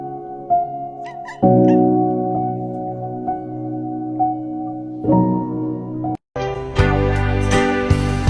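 A Manx cat meows repeatedly and insistently, drawn-out tonal cries close by, ending in a louder, harsher yowl.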